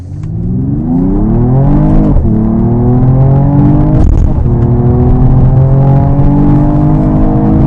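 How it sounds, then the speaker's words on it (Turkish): A Mercedes-AMG GT43 accelerates hard, its exhaust note climbing in pitch through two quick upshifts with short dips between gears. The engine is loud and close throughout. "Ve sesi özellikle vites arttırdığımızda gelen egzoz sesi de patırtı da gerçekten güzel hissettiriyor."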